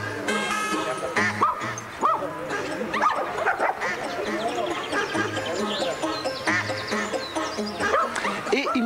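Several dogs barking and yipping close by in irregular bursts inside an enclosure, with some whimpering, and their owners talking in the background.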